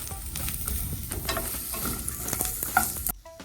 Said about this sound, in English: then add onion and saute for